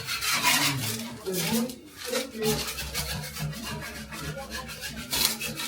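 Sanding with a hand sanding tool gives a steady rasping, rubbing scrape that repeats in strokes, close and fairly loud, with a voice heard faintly beneath it.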